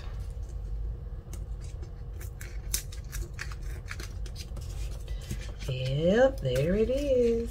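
The paper edge of a cash envelope being peeled away by hand, giving soft close crackles and rustles, followed by a voice speaking near the end.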